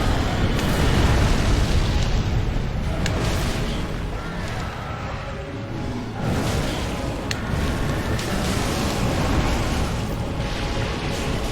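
An explosion goes off in a video game, a loud sustained booming roar filling the whole stretch with heavy low rumble and no talk over it.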